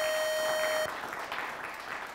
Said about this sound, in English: a nice round of applause for the Belvidere North Blue Thunder.